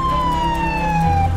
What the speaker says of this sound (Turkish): Açın yolu, ambulans geliyor, açın.